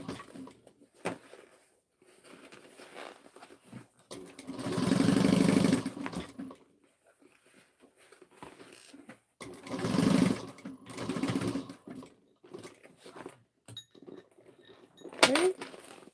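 Short bursts from a sewing machine back stitching on a lined messenger bag, several runs of a few seconds with pauses between them, close and fairly loud, with a person talking quietly in the gaps.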